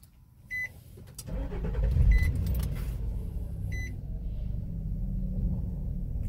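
A 2006 Nissan Pathfinder is started up. A few beeps and a starter crank come first, then the engine catches into a loud, steady idle rumble that runs to the end.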